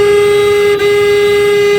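A single loud, sustained car horn blast with a steady tone, held for nearly two seconds with a brief dip midway.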